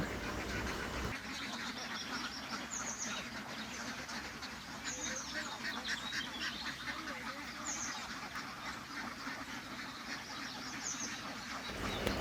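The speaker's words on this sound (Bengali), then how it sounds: "হাঁসগুলা জমিতে শামুক মাছ ছোট মাছ খাওয়ার পরে" A large flock on a duck farm returns at dusk from feeding in the fields, quacking faintly and continuously over a steady background noise.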